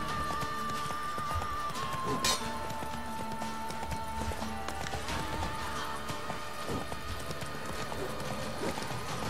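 Horse hooves clip-clopping in The Witcher 3: Wild Hunt, a steady rhythmic trot mixed with game music and combat effects, moderately loud throughout alongside a voice.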